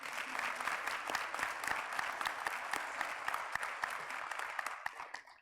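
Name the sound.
graduates applauding at a nursing commencement ceremony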